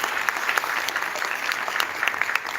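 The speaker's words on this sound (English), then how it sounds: "May I have a huge round of applause," Steady audience applause at a national social hackathon finale, honoring a guest of honor, a dense, even patter of many hands at moderate level with no talking over it.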